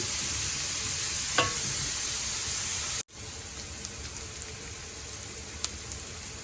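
Onions sautéing in a pan, a steady broadband sizzle that runs throughout with a brief cut near the middle and small pops and scrapes of stirring on top, close and continuous.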